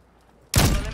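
An FJX Imperium sniper rifle firing in Warzone 2: one sudden, loud, booming shot that cuts in from near silence and rolls on as a long, heavy tail.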